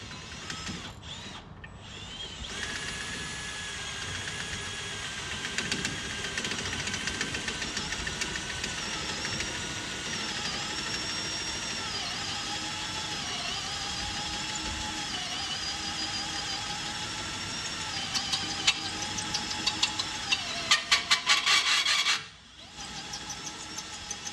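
A steady mechanical grinding whine runs for a long stretch, pitch wavering slightly, like a drill biting into metal, then briefly cuts out near the end.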